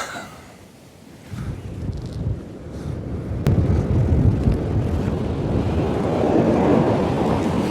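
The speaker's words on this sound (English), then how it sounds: "That wind's strong." Strong coastal wind buffeting the microphone on the Holderness Coast shore during winter sea fishing, a steady roaring rumble that builds after the first second and stays loud and continuous with surf mixed in.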